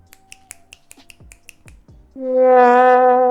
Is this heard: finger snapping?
yes